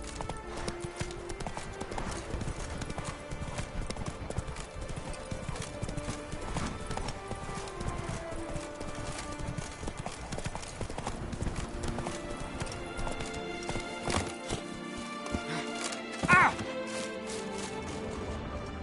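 Horse hooves clip-clop steadily at a walking pace in a PS4 video game, with a brief whinny near the end over ongoing game music and faint talk.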